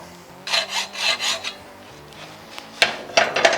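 Steel weld test pieces from a flux core wire test being nicked with a hand tool in a boat refit workshop: a series of short raspy scraping strokes, then a sharp metallic strike and a few more scrapes, close and fairly loud.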